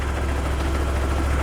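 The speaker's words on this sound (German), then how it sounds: "Und jetzt das Motorrad so lange laufen lassen, bis das ABS komplett versagt." A motorcycle engine runs steadily in second gear while the bike sits on its centre stand, a loud, close, continuous low drone with no voices.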